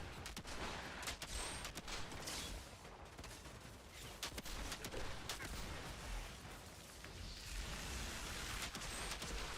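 Rapid bursts of gunfire from the looter-shooter game Outriders, a Technomancer build, crackle in quick clusters throughout, fairly faint and distant-sounding with a steady noisy backdrop.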